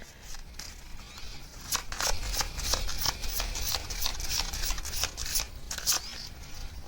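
Message cards for a reading are shuffled by hand, a run of quick papery riffles and flicks that grows busier after the first couple of seconds, close and fairly quiet with no talking.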